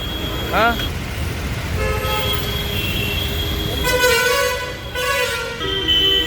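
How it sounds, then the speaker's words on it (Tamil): Several vehicle horns honk in busy traffic, short toots and longer blasts overlapping above a steady engine rumble, with voices faintly in the mix. "என்ன தான் ஹாரன் அடித்தாலும் சரி"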